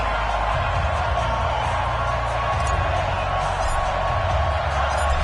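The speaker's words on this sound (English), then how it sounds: "Somehow this place got even louder a short time ago as the Falcons were introduced to this sellout crowd" A loud, dense stadium crowd roars and cheers without letup in an EA Sports NFL video game, at a sellout crowd as the Atlanta Falcons take on the Los Angeles Rams.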